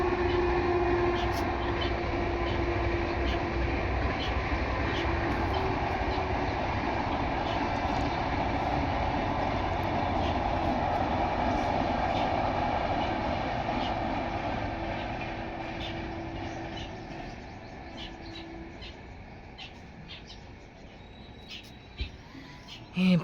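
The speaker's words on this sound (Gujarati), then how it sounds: "એક વિડીયો શૂટ કરવા જઈએ તો એકમાં 2 થી 3 ટ્રેનો ચાલુ રહે." Trains passing near a garden on a hot day, a broad steady rumble that holds loud for about fifteen seconds and then slowly fades into the distance.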